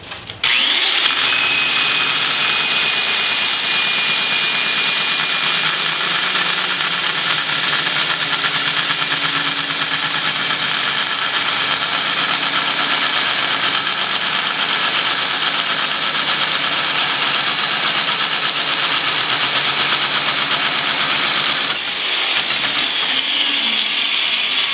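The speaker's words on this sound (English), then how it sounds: "And then we can continue cutting, and we'll be exactly 180 from where we started." Sink Notcher 180 tube notcher cutting tubing, a loud continuous high-pitched power-tool whine and grinding that holds steady for over twenty seconds, then briefly dips before resuming.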